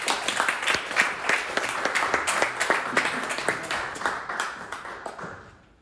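A room full of people applauds after a presentation at a forum on peace and dialogue between generations, with dense, steady clapping close by that thins out and fades away at the end.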